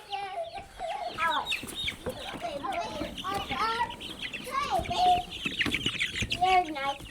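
Backyard homestead chickens cluck and chatter close by in a busy, irregular run of calls, with a person talking softly among them.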